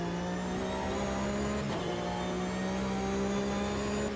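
Race car engine heard from the cockpit in the Automobilista 2 racing game, with gearbox whine layered in: a steady, loud drone with strong harmonics holding throughout, no talk over it.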